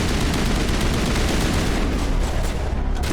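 Gunfire in Mass Effect 1 Legendary Edition: a dense, loud, continuous barrage of shots that fills the whole stretch without pause and with no talking.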